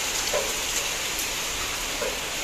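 Continuous hiss of heavy rain in Bangalore falling steadily on surfaces, even and fairly soft, with a few brighter drop patters standing out.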